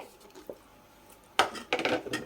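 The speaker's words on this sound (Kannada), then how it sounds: "ಈಗ ಇದಕ್ಕೆ ನಾವು ತುರಿದಿರ್ತಕ್ಕಂತಹ ಕ್ಯಾರೆಟ್ನ ಹಾಕಿ ಮಿಕ್ಸ್ ಮಾಡಿದರೆ" A spoon stirs grated carrot into instant dosa batter in a steel vessel, giving a few soft wet scrapes and clinks that grow busier toward the end, with no talking.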